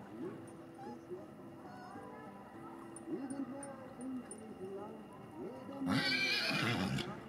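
Horses whinny and hooves clip-clop in a dressage arena during team riding, with a commander's voice calling out over them and a louder burst of neighing near the end.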